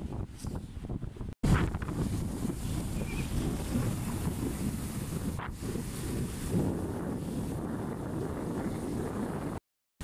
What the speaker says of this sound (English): so we're finally at the beach